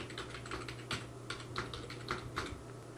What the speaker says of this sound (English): add a password, confirm the password